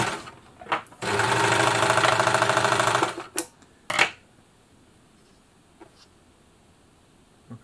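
A Babylock Jet-Air serger overlocker, model BLE1 DX, runs in a fast, smooth burst for about two seconds, loud and close, with a few short clicks and knocks after it stops.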